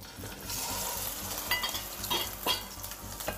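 Flour-and-egg-coated pieces pan-frying in oil, a steady close sizzle with scraping stirs and a few sharper clinks of a utensil against the pan, no voices.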